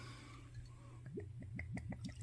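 Jack Daniel's Single Barrel Rye whiskey pours from a freshly opened bottle in a quick run of rising glugs, close but quiet against a low hum.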